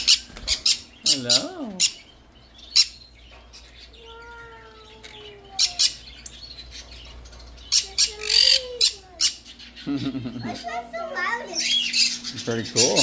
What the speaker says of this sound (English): Yeah, cockatiel.